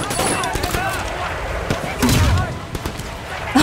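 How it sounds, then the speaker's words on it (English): Gunshots in the Sleeping Dogs video game, a few sharp cracks scattered over a noisy background, the loudest around the middle and end. "I did shoot, but I totally missed."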